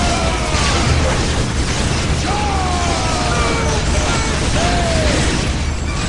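Artillery barrage from a Whirlwind tank in Warhammer 40K: Dawn of War, a dense continuous rumble of blasts and mechanical clatter under battle noise, with faint voice-like tones drifting through.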